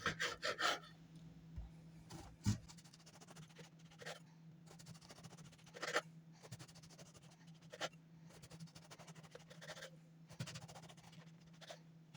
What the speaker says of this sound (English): So now I'm going to cut the sandwich bread slices to make sandwiches.